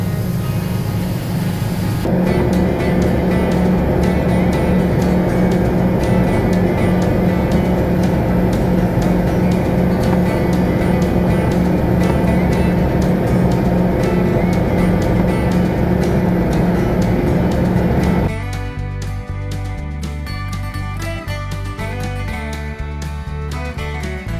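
A combine's auger unloading harvested corn, a loud steady mechanical drone with engine hum that drops in level and changes tone partway through, no speech over it.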